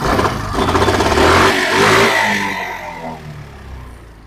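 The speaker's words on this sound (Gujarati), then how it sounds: "તમે કદાચ એન્જિનનો અવાજ સાંભળી શકતા હોય તો" A self-start Suzuki Access 125 scooter engine runs close by, revving up loudly and then settling back toward an idle as the sound gradually fades.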